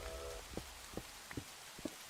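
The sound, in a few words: rain in a video game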